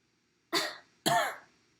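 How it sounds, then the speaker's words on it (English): Two sharp, close coughs on request during a clinical swallow evaluation, evenly spaced about half a second apart, each a short burst that fades quickly into silence. "Can you cough for me?"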